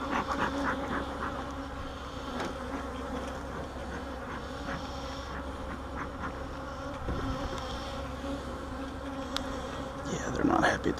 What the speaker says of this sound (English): this is the bunch that's got the guard bees in it